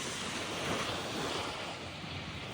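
Surf rolling onto a beach in Cabo, a steady broadband wash of breaking waves with some wind rumble, continuous and fairly close, no voices.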